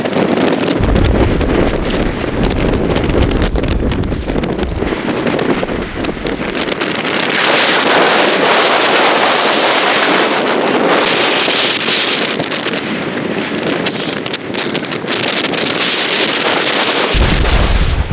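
Strong wind buffeting a camera microphone on St Aldhelm's Head, a coastal headland, with a steady loud roar and gusty low thumps throughout and no talking.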